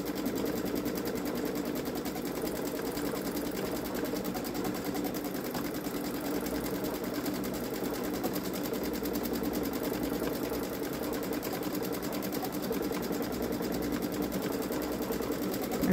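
Baby Lock Solaris sewing machine stitching an edge-to-edge quilt design, a steady mechanical hum with fast continuous needle rattle, even in level and unbroken throughout.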